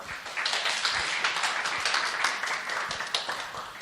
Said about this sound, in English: Please give him an applause as he comes up.